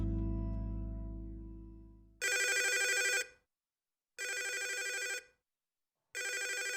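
An old-style telephone bell rings in a video game, three loud, evenly spaced bursts of about a second each with silent gaps between, following a fading low tone.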